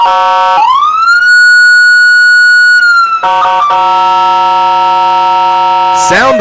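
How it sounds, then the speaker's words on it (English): A loud stadium siren wails at a minor-league baseball game after a three-run bases-clearing double, rising steadily then holding a sustained tone before shifting into a second siren pattern with a descending sweep at the end, alone without talk. "Sound the sirens indeed."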